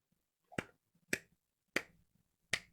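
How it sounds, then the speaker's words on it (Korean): Four slow, isolated handclaps with long gaps between them, reluctant and forced, come from a church congregation during a New Year's Eve service. The claps are quiet and sharp in an otherwise silent room. "억지 박수"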